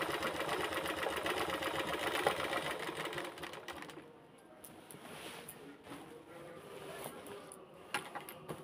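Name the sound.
sewing machine stitching saree fall border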